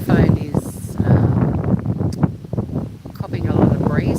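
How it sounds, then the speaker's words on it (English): Strong wind buffets the microphone outdoors on a blustery day in Devonport, Tasmania, a low rumbling roar that swells and dips under a person talking throughout. "it's really windy"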